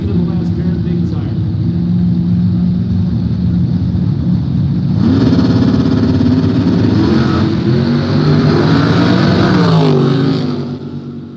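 Big tire drag racing cars in a no-prep race run down the track, a loud sustained engine roar that swells and holds for several seconds under crowd noise, then fades.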